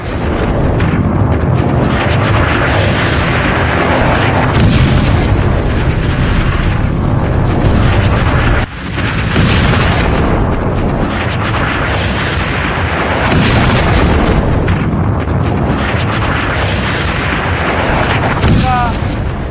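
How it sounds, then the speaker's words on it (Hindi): Sea mine explosions strike ships in a simulated naval scene, heavy deep booms repeating every few seconds over a continuous loud rumble. "जहाज जैसे ही वहां तक पहुंचते हैं और धमाके हो जाते हैं"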